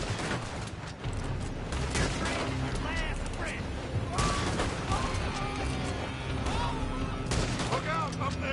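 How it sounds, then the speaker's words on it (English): Gunfire crackles through a PS4 video game firefight as enemies shoot from a building, with dense, continuous bursts of shots layered under in-game music and characters talking throughout. "They're shooting from that building."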